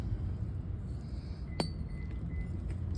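Antique glass bottles dug from a construction site being handled, one sharp bright clink near the middle with faint smaller taps over a low background hum, no speech.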